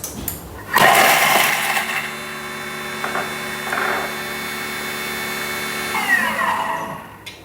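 A Thermomix chops frozen whole chilies at speed 7, giving a loud rattling, whirring blender roar that starts abruptly, holds steady with clattering pieces for several seconds, then winds down.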